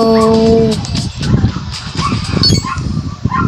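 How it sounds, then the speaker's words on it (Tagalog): A dog at a small grocery store lets out a high, drawn-out whine, then breaks into a rough, close-up run of barks and whimpers that fills the space. "Meron kami kasing aso."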